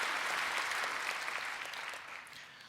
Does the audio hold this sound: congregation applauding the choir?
yes